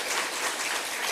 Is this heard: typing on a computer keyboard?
no